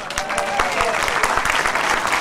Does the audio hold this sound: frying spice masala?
no